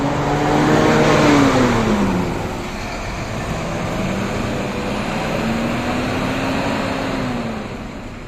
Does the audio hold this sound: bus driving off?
yes